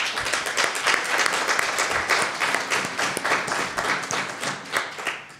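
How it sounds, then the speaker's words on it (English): An audience claps together at a political talk, a dense steady applause with individual hand claps audible, lasting throughout at moderate loudness. "There'll be a lot of clapping if you're going to clap every time that she did something good"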